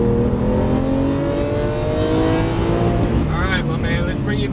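A Lamborghini Aventador LP700-4 accelerates hard on a race track, its loud engine roaring and rising in pitch steadily throughout, close and dominant.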